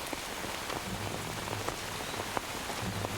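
Steady rain in Metal Gear Solid 3 hisses continuously with scattered drop ticks, moderately loud and even throughout, with no voices over it.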